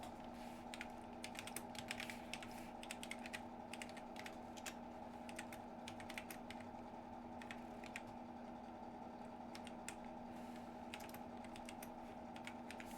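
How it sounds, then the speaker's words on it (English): Steady, rapid typing on a computer keyboard, with dense clicky keystrokes running the full length over a constant low electrical hum. "My typing skills are showing."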